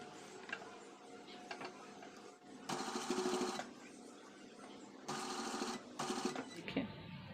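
A domestic sewing machine stitches the shoulders and top seams of a one-year-old boy's waistcoat at home, running in several short bursts of rapid mechanical whirring separated by quieter handling pauses.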